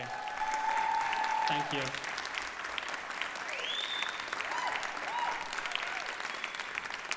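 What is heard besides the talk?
audience applause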